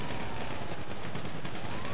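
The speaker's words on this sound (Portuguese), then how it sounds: "Vai tomar muitos tiros" Gunfire in GTA 5 Online: dense, rapid automatic shots rattle continuously through the whole moment, loud and close, with no pause between bursts.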